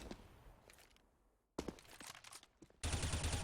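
Gunfire in a Counter-Strike pro match, with sharp shots and a rattling burst at close range, followed by a dense sustained burst near the end, against faint game ambience.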